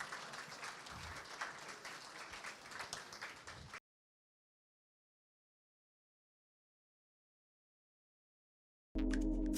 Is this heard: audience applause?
yes